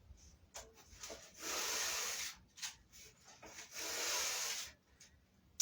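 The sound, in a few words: scrubbing wood stove parts with a sponge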